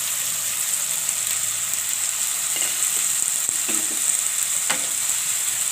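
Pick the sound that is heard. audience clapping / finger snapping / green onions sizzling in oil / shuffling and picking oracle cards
green onions sizzling in oil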